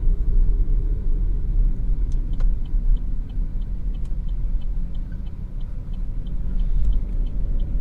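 Steady low rumble of car traffic on Avenida Nações Unidas, a main avenue in Bauru, on a Sunday, a continuous dense drone of passing vehicles with faint sharp clicks above it and no talking.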